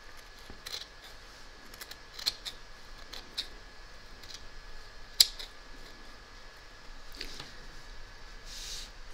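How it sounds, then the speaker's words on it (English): Scissors trimming the raw edge of fabric, a few sparse, quiet snips and crisp clicks spaced irregularly over a faint background hum, with no talk. "We're now going to trim up the raw edge, ready for the join."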